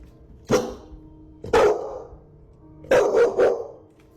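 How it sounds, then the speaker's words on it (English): A dog barks at a door indoors, four sharp barks spaced unevenly, the last two in quick succession, fairly close over a low room hum with no talking. "his dog turns around and starts barking at another door"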